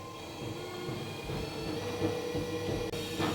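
A cheap pottery wheel runs steadily with its plastic splash pan rattling, a continuous close mechanical hum and buzz with light clattering throughout and no talk.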